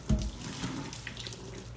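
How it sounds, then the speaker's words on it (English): Cooking water poured off boiled bananas into a sink, a steady close splashing gush with no talk. "I'm going to throw the water out of that."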